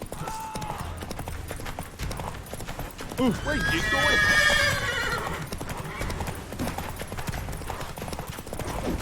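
Geralt's horse Roach gallops in The Witcher 3, a steady rapid clip-clop of hooves with a whinny in the middle, running under a voice and game action.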